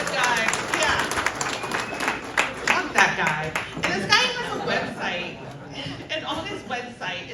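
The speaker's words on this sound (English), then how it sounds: "I want you to give a quick, just a round of applause for the Sherpas" A bar audience claps and cheers in a scattered round of applause, mixed with crowd chatter and voices talking over it.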